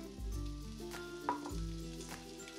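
Onion and daikon sautéing in oil in a pan, a steady close sizzle with a few soft stirring knocks and utensil taps.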